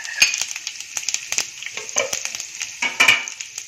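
Curry leaves and sesame seeds hit hot oil over a low flame, crackling and spitting in sharp irregular pops, with brief sizzling bursts close at hand and no talking.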